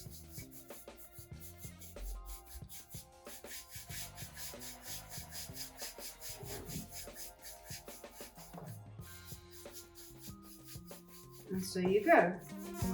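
Hand polishing a wax patina finish on a sculpture with steady elbow grease gives a soft, continuous rubbing and buffing, close and moderately quiet, under a faint background hum, with a brief voice in the middle and a louder scrubbing burst near the end.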